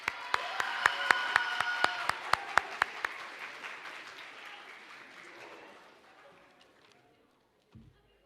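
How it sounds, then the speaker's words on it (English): A round of applause at a school band awards ceremony, with a few sharp hand claps standing out over scattered clapping that fades away to near silence. "Let's give one more round of applause to all of our power players."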